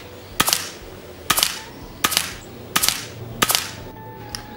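Five sharp air rifle shots firing JSB pellets, evenly spaced about a second apart, each a crisp crack with a short ringing tail, close and clear with no talk.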